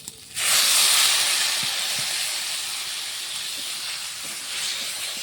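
Water poured into a hot pan of spices for prawn curry, a sudden loud sizzling hiss that bursts up at once and slowly eases into a steady softer bubbling sizzle, close by with no talking.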